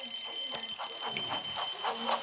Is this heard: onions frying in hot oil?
no